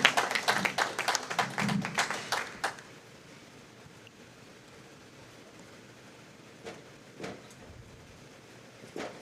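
Audience clapping for women bowlers at a PWBA regional tournament in Albany, a short burst of applause that fades out after a few seconds, leaving quiet room tone with a couple of faint taps.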